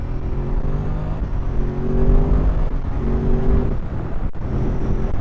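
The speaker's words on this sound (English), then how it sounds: "I've just dropped it into second. Okay, let's give it a jump." A Ducati Supersport 950 S motorcycle pulls hard in second gear, its engine note climbing in rising harmonic sweeps that drop back and climb again, heard up close from the rider's position over wind rumble.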